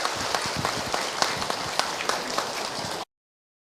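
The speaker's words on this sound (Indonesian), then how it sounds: "Tepuk tangan buat bunda" An audience at an Islamic religious talk applauds steadily as a woman returns to her seat, with dense crackling claps for about three seconds before the clapping stops abruptly.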